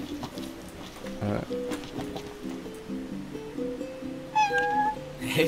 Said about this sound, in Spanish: ¿Qué es? Un gato.